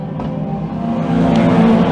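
Race cars roar by in a speedway heat race at Can-Am Speedway, a loud, close, sustained engine drone that builds slightly as the pack passes.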